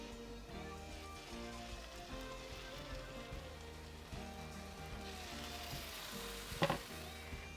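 Bread for a blueberry grilled cheese sandwich sizzles in a pan with a soft, steady crackle beneath an overlapping musical backing, then a brief scraping clatter near the end.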